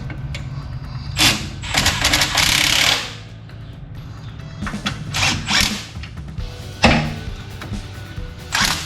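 Ratchet working 18mm bolts during a rear sway bar install on a 1992 GMC Sonoma GT pickup: bursts of close clicking and metallic scraping in short runs, with pauses between and mechanical clatter.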